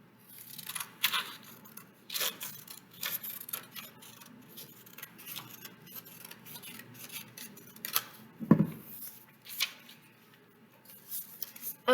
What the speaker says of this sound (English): we are going to use the edge of this triangle that we've made to cut off the extra of our rectangle sheet of paper